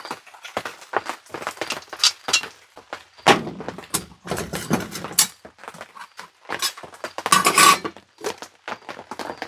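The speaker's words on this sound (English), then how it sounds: "And then get the stove hooked up." Metal clinks and knocks of a camping stove being connected at a rainy solo campsite, a run of close, irregular clanks and rattles with short pauses between them.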